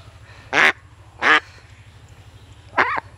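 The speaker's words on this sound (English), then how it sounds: "These are the remnants of the ducks that are there at the big farm that we had before." Three loud, separate quacks from feral farm ducks, two close together and a third after a pause, over a low steady background hum.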